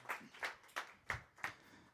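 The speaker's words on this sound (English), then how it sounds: "Let's give him a round of applause, folks" Five faint, evenly spaced claps at a company culture talk, sounding like a single pair of hands keeping a slow, steady rhythm.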